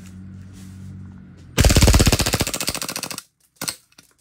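A WE G18 G4 gas airsoft pistol fires full auto, a loud rapid burst of sharp pops lasting about a second and a half, followed by a brief second shot as the gas runs out.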